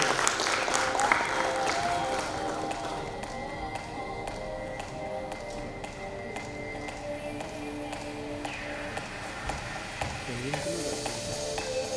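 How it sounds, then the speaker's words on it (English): At a manufacturing summit, an audience keeps up long, moderately faint applause to welcome a Ford Motor Company manager to the stage, the steady clapping sustained throughout with steady tonal sounds running beneath it. "Let's welcome him with a round of applause"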